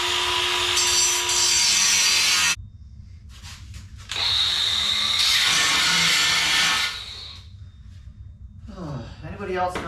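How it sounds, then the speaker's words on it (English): A DeWalt cordless angle grinder whines loudly through a cut into a piece of metal, stopping, restarting and running again before winding down, with speech mixed in near the end. "these DeWalt grinders eat batteries"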